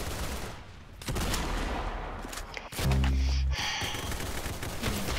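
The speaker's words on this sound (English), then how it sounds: "Deagle headshot. And I missed my shot. I missed another one." Desert Eagle pistol gunfire in the Roblox game Arsenal: several sharp, loud game gunshots and impacts in quick bursts, close and punchy, with no talk over them.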